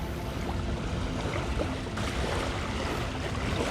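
Lake water laps and splashes close by in a steady wash of broadband sloshing, with no voices heard.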